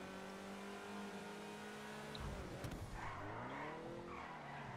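A Cheetah Classic sports car in GTA Online skids through a tight high-speed turn, engine whine and tire squeal sweeping in pitch, fairly faint and without speech.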